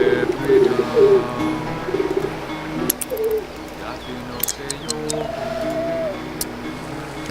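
Bird flying off with a letter in the video game The Sims Medieval: soft cooing and chirping calls with a flutter, over game music, while someone talks.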